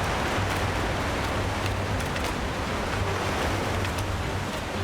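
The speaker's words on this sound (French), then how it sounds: "Ah wow, vraiment, Stormy, vous avez les vagues qui se lèvent, c'est incroyable." Video game ocean waves surge and roll as the sea rises, a steady loud wash of surf and spray filling the scene without a break, with a faint low hum beneath.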